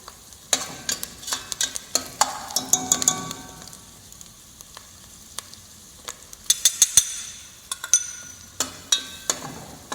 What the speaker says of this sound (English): as the vegetables are cooking, we are going to add the flour to it